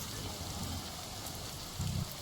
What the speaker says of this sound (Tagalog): Pero umuulan na.